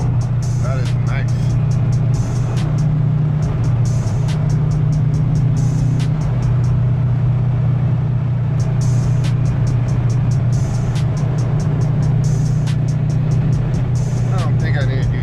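A car cornering through a series of turns on a winding road in Mexico, with a steady loud low engine and road drone throughout and periodic ticking clicks above it.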